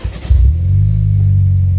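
A Morgan car's engine barks into a short rev close by, then settles into a loud, steady low drone as the car is shuffled a few metres at a time.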